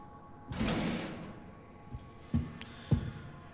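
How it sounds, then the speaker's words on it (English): A door opens in the horror game Monstrum, a broadband burst that swells and fades over about half a second, followed by a few scattered dull thumps and clicks against a quiet, tense ambient background. "now I open the door"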